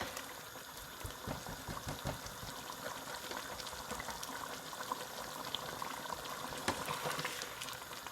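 Mutton and tomatoes sizzle and bubble in a pan over a high flame, a steady dense frying hiss with scattered crackles and pops running throughout, close and fairly loud, with no talking.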